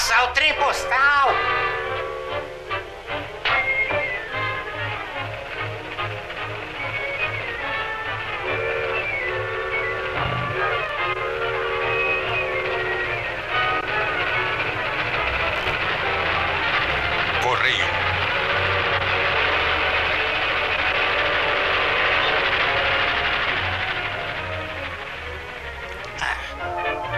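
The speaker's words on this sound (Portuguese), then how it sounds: "Nossa, o trem postal." A mail train in a 1935 cartoon rushes past with chugging, a whistle-like tone and rattling, a loud sustained animated soundtrack running for the whole stretch.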